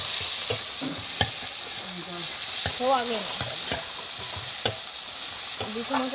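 Spice masala frying in a pan for egg curry while being stirred, a steady sizzle with repeated sharp taps of a spatula and brief tonal squeaks or voices in the background.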